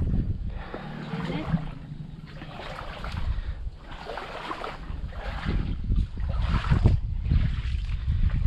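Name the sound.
wind blowing by water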